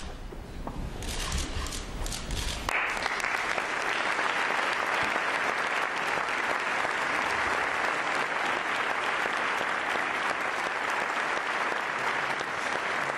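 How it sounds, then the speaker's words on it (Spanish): Applause from the small audience in the Paraninfo auditorium of the Universidad de Alcalá de Henares swells after a second or two and continues as dense, steady clapping. "aplausos de este pequeño auditorio del Paraninfo de la Universidad de Alcalá de Henares para José Manuel Caballero Bonal"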